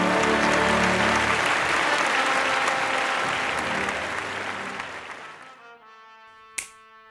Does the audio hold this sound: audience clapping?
yes